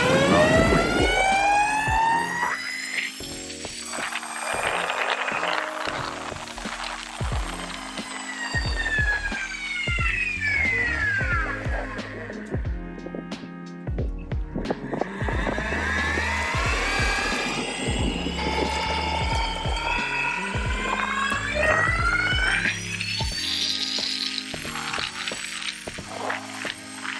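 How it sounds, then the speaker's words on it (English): The steel gear drive of a Meepo Voyager electric skateboard whines while cruising, a continuous tonal hum that glides up and down in pitch over a low rumble of wheels on pavement. "you do hear the steel gear drives in there, but otherwise, it's a pretty quiet system when you're just cruising"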